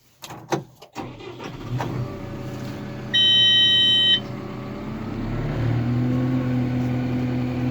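Caterpillar D4 bulldozer starting up: a loud, steady engine rumble builds and holds, with a brief electronic warning beep partway through, heard alone without talk.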